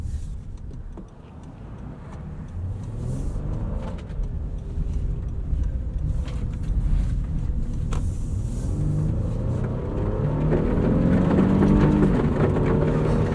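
A 2023 Honda Pilot's V6 hums and rumbles steadily while driving on a gravel road, with loose stones ticking and popping against the underside and the engine note rising slightly toward the end.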